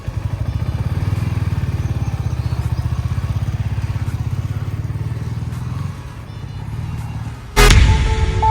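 A sport motorcycle engine, an R15M, runs with a steady pulsing throb close by, dips briefly, then surges louder as the throttle is blipped near the end.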